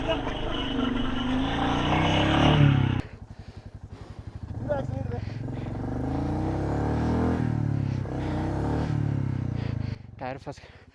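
Motorbike engine revving hard while stuck in deep snow on a high mountain pass, a loud sustained growl that drops to a rough, pulsing idle and then rises again, with people talking over it.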